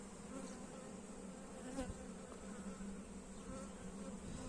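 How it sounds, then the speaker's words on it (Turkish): A steady, dense buzzing of many honeybees close by around a hive, continuous and even throughout with no voices. "Çıkan gözlerden e, arılar var"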